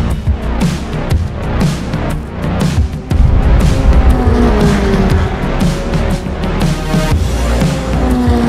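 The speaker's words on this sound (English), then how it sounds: "cars just went out there. They're getting ready for qualifying." Race cars out on track for qualifying: loud, continuous engine roar with squealing tires and skids as cars pass close by, dense and unbroken throughout.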